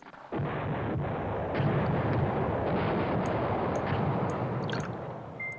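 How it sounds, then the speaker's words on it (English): Artillery bombardment in the war strategy game Command Ops 2 rumbles as a dense, continuous barrage of booms and crackling blasts, loud and sustained for several seconds with no talking. "So he can start bombing over there."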